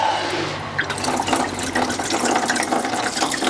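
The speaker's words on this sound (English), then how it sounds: "Quite a bit more coolant coming out now." Engine coolant draining steadily from a lower hose pulled off the thermostat housing on a BMW N47/N57 diesel, a continuous trickling, splashing flow at close range with no talking.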